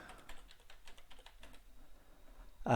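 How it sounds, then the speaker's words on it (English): Typing a search query on a computer keyboard, a quiet run of light key taps for about a second and a half before a pause and a louder sound at the end. "if I type in Templestowe here"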